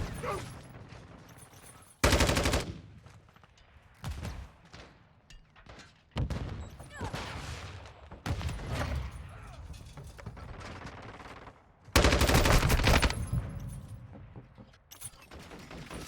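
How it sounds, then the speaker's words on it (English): Heavy gunfire from the Call of Duty video game comes in repeated loud bursts of rapid automatic shots and sharp blasts, separated by quieter stretches. "There's a lot of gunfire."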